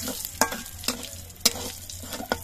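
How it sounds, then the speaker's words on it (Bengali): Nigella seeds and a halved dried red chili fry in hot oil in a slightly scorched wok, giving a soft continuous sizzle broken by four or five crisp spatula scrapes at a fairly even pace, nearby and alone. "কালো জিরে আর শুকনো লঙ্কাটা ভেজে নিতে হবে।"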